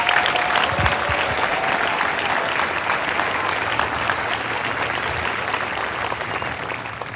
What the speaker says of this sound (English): So how about we give that banner a round of applause?